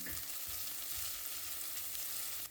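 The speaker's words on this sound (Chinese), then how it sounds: "然后加入小米椒以及切好的蒜末，用锅铲翻炒出香味" Pork belly stir-fried with chopped chili and minced garlic in a wok, a spatula scraping and tossing it: a steady, close sizzle of hot fat with soft rhythmic scrapes, continuous and loud, no talking.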